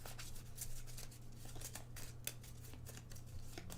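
Arkham Horror playing cards shuffled by hand give a quiet, close, continuous riffle of rapid soft flicks and snaps over several seconds.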